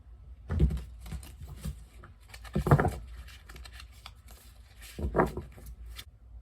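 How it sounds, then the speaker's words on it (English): Tarot cards are shuffled in a few soft, riffling bursts with quiet pauses between them, close to the microphone. "One more shuffle."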